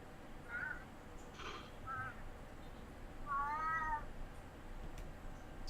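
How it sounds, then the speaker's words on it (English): A real cat meows several times, faint and thin, in short whiny calls with one longer, wavering cry in the middle, over quiet room noise with no talking. "It's a weird sounding cat."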